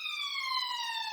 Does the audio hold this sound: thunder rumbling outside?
no